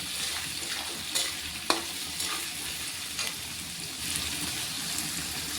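Onions frying with salt in a pan, a steady close sizzle broken by a handful of light scraping stirs and one sharper clink, no one speaking.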